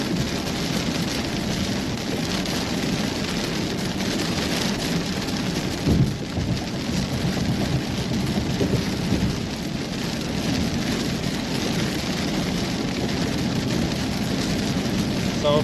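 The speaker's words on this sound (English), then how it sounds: "We should be out of this rain pretty soon, though." Heavy rain pelts a car driving through a storm on the way to I-10, a constant loud wash of drops with road rumble underneath and one brief thump near the middle.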